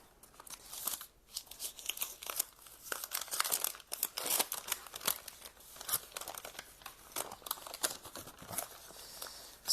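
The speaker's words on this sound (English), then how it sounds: "I'm carefully peeling their label, and to make sure I'm careful, I'm going to actually use a pair of scissors" Close, crisp crinkling and tearing sounds of a label on a tropical pitcher plant being peeled and snipped with scissors, with irregular small crackles and rustles throughout, no voices.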